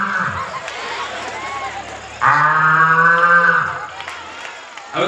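A voice imitates a buffalo calf mooing, giving one long, loud, drawn-out moo that follows a stretch of his talking.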